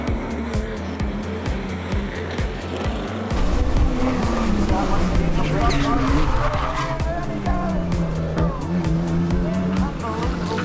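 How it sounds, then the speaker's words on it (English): An RB30-powered Holden VL Commodore races at the Waimate 50 Festival of Motorsport, loud engine roar rising and falling through gear changes with tire squeal, while a commentator talks over it. "Kurt Aikman in the RB30 powered Holden VL Commodore pushing through to snatch the lead from Clark Proctor."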